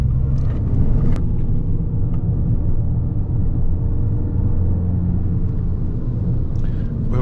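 An Abarth 595 Competizione's engine drones loud and steady while the car climbs an uphill road near a castle, a continuous close rumble with brief faint clicks.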